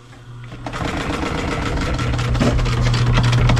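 A sewing machine top-stitches a seam on a motorcycle seat cover for a 2003 Yamaha YZ450F, starting softly and building to a steady, continuous mechanical whir heard close up and alone.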